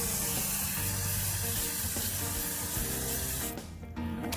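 Water sprays and splashes steadily over dry, dusty tumbling rocks, a continuous close hiss and patter that briefly dips near the end.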